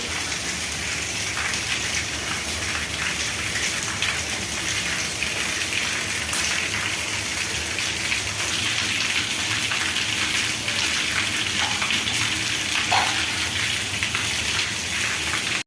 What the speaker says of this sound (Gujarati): આજે સતત બીજા દિવસે ધોધમાર વરસાદ વરસી રહ્યો છે